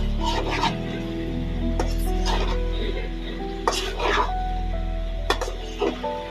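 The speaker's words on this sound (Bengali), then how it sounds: "সুন্দরভাবে নাড়াচাড়া করা হচ্ছে দেখতে পাচ্ছেন আপনারা" Chicken gizzard and liver stirred in a pot, with a spoon scraping and knocking against the metal in several distinct strokes over a soft sizzle and a steady low hum.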